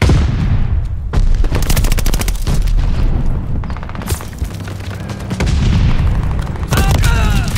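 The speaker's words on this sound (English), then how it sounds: "Throwing grenade! Tossing stun grenade!" Dense bursts of gunfire and grenade booms from the video game Call of Duty: Vanguard, loud and continuous over several seconds, with rapid overlapping shots and heavy impacts.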